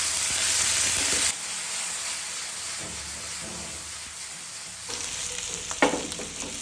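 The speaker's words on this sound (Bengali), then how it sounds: "তেল গরম হয়ে গেলে ম্যারিনেট করা মাংসগুলো দিয়ে মাঝারি আঁচে ভাজতে শুরু করেছি" Marinated beef sizzling loudly in hot oil in a frying pan over medium heat, a dense continuous hiss with a brief swell of spitting near the end.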